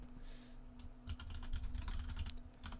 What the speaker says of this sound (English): I'm going to type in my email here.